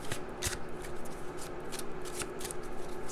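Tarot cards are shuffled by hand in a series of quick riffling bursts, close and crisp, with soft handling sounds between them.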